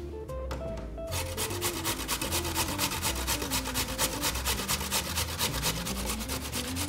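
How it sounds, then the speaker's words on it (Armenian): Potatoes are grated by hand into a bowl, a continuous fast rhythmic rasping scrape repeating steadily and close up, with faint kitchen hum underneath and no talking. "Սիրելի ամանի մեջ քերում ենք"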